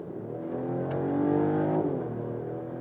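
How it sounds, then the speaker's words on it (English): A 2024 Mercedes E450 AMG Line, 380 horsepower with electric boost, pulls hard from 60 km/h in sport mode, its engine note rising steadily and smoothly in pitch from inside the cabin, loud and continuous without talk. "Acceleration test in the sport mode."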